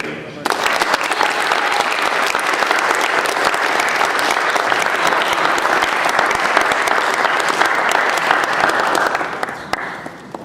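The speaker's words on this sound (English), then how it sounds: "let's give the parents a round of applause." An audience at a Boy Scout Eagle Court of Honor applauds the parents, a dense, steady round of clapping that starts abruptly, holds evenly for about ten seconds and fades at the end, close and loud with no talk over it.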